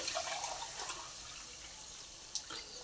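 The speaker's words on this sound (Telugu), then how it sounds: "వాటర్ పోసుకుంటున్నానండి." Water trickles and splashes quietly into a container, a soft, close pouring sound with a few small drips.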